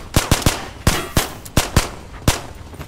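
A BAR automatic rifle fires in the video game Ghosts of Tabor, loud and close, with about nine sharp shots in quick irregular bursts over a few seconds, each with a short ringing tail.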